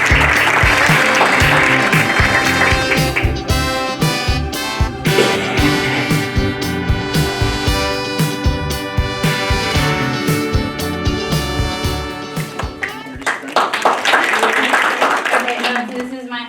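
An audience applauds Long Beach Middle School's Teacher of the Year at a school district event. The clapping is loud and sustained, with dense hand claps and cheers for about sixteen seconds, swelling again near the end.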